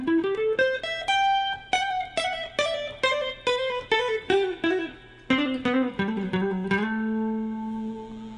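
An electric guitar with effects runs a minor 7 arpeggio into quick hammer-on and pull-off triplets, then descends a scale, ending on a sustained note. The phrase is a clear, fluid melodic line played alone.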